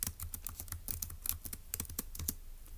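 Rapid, irregular clicking of keys on a computer keyboard, typed alone in a steady burst of strokes, close and moderately loud.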